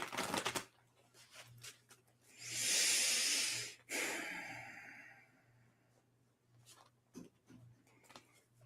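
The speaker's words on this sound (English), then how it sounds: "Three nice deep breaths." A person takes deep breaths while getting focused, with airy inhales and exhales rising and falling close by over a low steady hum, one strong breath standing out in the middle.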